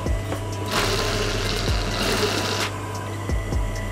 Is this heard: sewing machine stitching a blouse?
yes